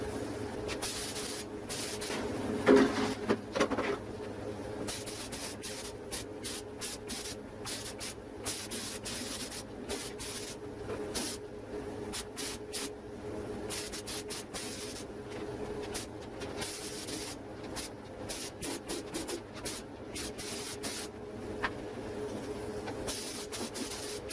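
Rust treatment being sprayed onto a 2001 Chevrolet Silverado 2500 HD truck in a light first coat, heard as a steady hiss broken into many short bursts of trigger pulls running the whole way through, with no talking.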